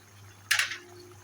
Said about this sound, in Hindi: आधी प्याली जो है हम ऐड कर देंगे ऑयल